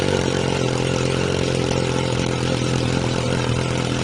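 Motorcycle fitted with a Yoshimura Alpha-T exhaust running steadily at idle, a loud, even, droning engine note with constant low pulsing, close up and alone.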